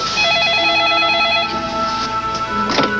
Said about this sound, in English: Right about that instant, the telephone rang.